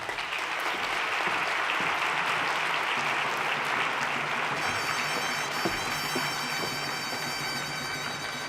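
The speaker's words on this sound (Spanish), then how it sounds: "Un aplauso para ellos." Sustained audience applause at an ethics conference session, a dense, steady wash of many hands clapping throughout, with a faint high electronic tone entering partway through.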